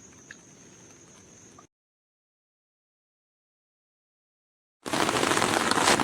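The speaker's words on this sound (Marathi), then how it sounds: "पाऊस पडतो म्हणून जरा थांबलो आहे मी, कारण खूपच पाऊस पडायला लागला" Heavy rain falls at a building site in a sudden loud, dense hiss near the end, following a faint, quiet background and a moment of silence.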